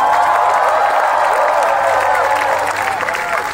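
Loud, dense applause and cheering from a large crowd at a live Bangalore concert, a steady roar of clapping filling the whole stretch without a break.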